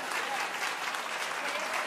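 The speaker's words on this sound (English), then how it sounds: "The hell are you clapping for?" A studio audience claps in a thick, even wash of applause that holds steady and fairly loud for the whole short stretch.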